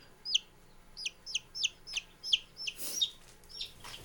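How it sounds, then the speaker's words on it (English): Silver Laced Wyandotte chicks give a quick series of high, thin peeping chirps, about a dozen short calls in an uneven rhythm, close by and clear over a quiet room hum. "that is your Silver Laced Wyandotte."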